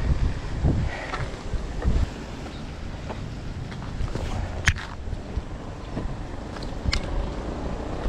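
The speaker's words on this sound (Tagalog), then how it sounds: "Sarap ng hangin kahit mainit." Wind blows steadily across the microphone beside the Mamala River near a hanging bridge in Sariaya, Quezon, a continuous rushing roar with gusty low thumps and faint scattered background noises.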